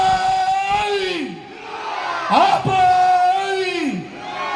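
An audience at a stage show raises a loud collective cheer on cue, with long drawn-out shouts and whoops rising and falling in a few waves, close and full.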